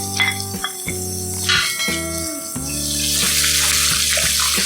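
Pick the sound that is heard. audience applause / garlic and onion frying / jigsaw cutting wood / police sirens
garlic and onion frying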